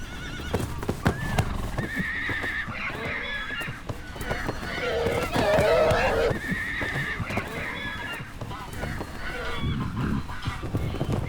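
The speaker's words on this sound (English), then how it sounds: "The young studs test each other's strength." Young stallions fight on an open Dutch grass plain, whinnying and squealing repeatedly amid thudding hooves and scuffling, with a narrator talking over part of it.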